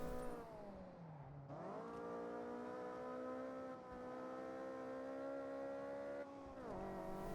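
Engine of a car in Forza Horizon 6 cruising along a highway, a steady close drone with harmonic engine tones that rise and dip through a few gear shifts, continuous and fairly loud with no talking.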